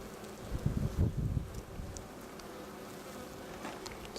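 Honeybees hum around an open hive during an inspection, a soft continuous buzz with a louder low swell early on, close to the microphone and mixed with light wind noise.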